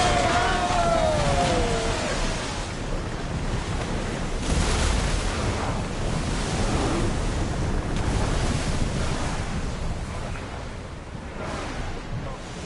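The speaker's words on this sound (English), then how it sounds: "Feel that wind!" Strong wind and rolling surf at sea aboard a ship in Assassin's Creed Odyssey, a loud continuous rushing roar with waves surging and a brief whistling tone at the start.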